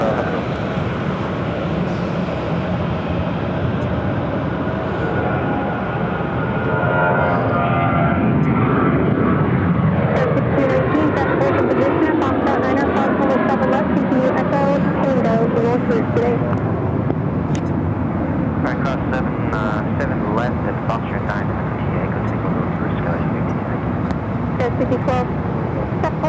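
An American Airlines Boeing 737-800 at Phoenix airport roars loudly and continuously, its jet engine noise swelling and shifting pitch as it passes, with distant traffic-like rumble beneath.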